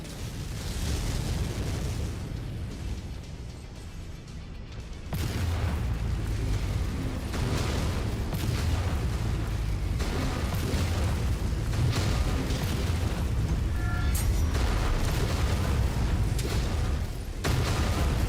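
In MechWarrior 5, a destroyed mech explodes in a deep, sustained boom that swells louder partway through and rumbles on under constant battle noise, with no talking.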